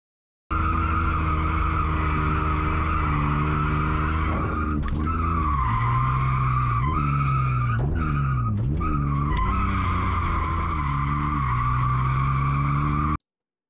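Car drifting donuts in second gear at a drift event, tires squealing in a long continuous screech over a strained engine whose pitch rises and dips as revs are held up.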